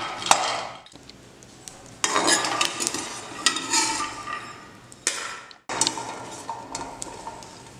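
Peanuts and sesame seeds are dry-roasted in a pot on a stove, stirred with a utensil that scrapes and rattles against the metal in bursts, with a brief pause midway and no talking.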